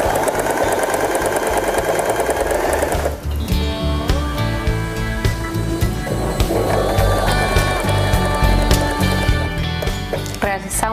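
A Janome 3016 sewing machine stitches fabric and elastic with a dense, continuous mechanical whir and rapid rhythmic clatter, loud and close throughout, with a brief change in pace partway through.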